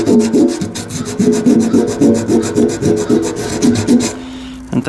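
320-grit sandpaper is rubbed by hand over a Ford 800 tractor's fuel system. The strokes are close, loud and quick, about two or three per second, and stop briefly near the end.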